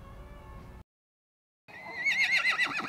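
A horse gives a loud, wavering whinny that rises and trembles for about a second, following a stretch of low background noise and a brief silence.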